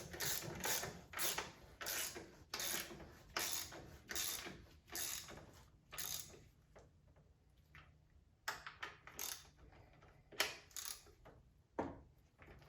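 Ratchet tightening a bolt on a 2009 Volvo S40 T5 AWD R-Design, close rapid clicking in repeated bursts of strokes with short pauses between, fairly quiet and without talk.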